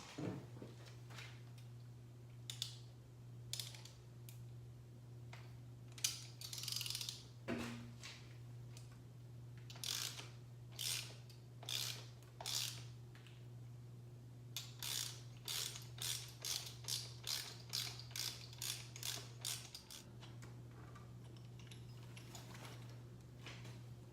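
Ratchet wrench clicking in bursts of rapid ticks while loosening a spark plug on a 1986 Porsche 944, close and clear over a steady low hum, with several pauses between runs.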